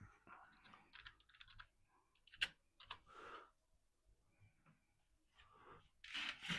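Computer keyboard typing in quick irregular clusters of clicks, faint and close, with a few louder knocks and pauses between bursts.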